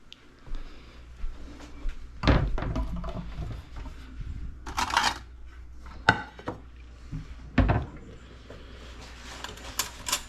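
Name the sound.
cutting apart a baked samsa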